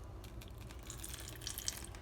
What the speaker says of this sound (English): need to drain all the salt water